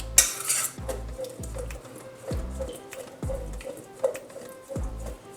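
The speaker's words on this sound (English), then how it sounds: "we're just giving it a little bit of a toss to coat our paneer in the seasoning" Paneer being tossed in chipotle seasoning in a bowl, with a series of close, distinct clinks and knocks of utensil against dish at a steady, unhurried rhythm and no talk.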